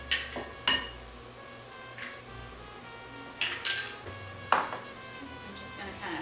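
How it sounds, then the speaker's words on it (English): Two eggs are broken up in a bowl for a baked ziti filling. A utensil knocks and clinks against the bowl in scattered bursts over a quiet kitchen background. "And so first I'm going to break up my egg."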